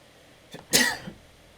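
A single sharp sneeze bursts out close by, preceded by a brief intake of breath and followed by a small trailing sound, with quiet around it.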